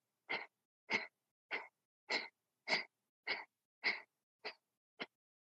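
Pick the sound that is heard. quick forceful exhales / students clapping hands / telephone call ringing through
quick forceful exhales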